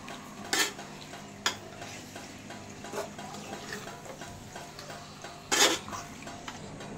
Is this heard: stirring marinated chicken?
yes